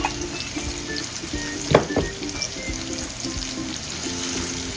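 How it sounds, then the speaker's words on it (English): Chopped onion frying in vegetable oil in a pan, a steady low sizzle with a faint repeating hum and a couple of brief utensil knocks midway, with no talk. "In the pan, I already have my oil, my vegetable oil. So I'm going to be going in with some onion, some chopped onion"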